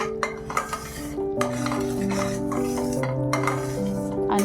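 Sesame seeds and jaggery stirred in a pan over low heat for tilgul ladoos, a spoon scraping and clinking against the metal in a steady run of close, fairly loud strokes with no talk.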